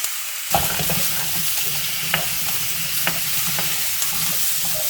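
Potatoes for soy-braised potatoes fry with freshly added garlic and onion in a pan, giving a steady close sizzle with occasional scraping stir clicks and no voices.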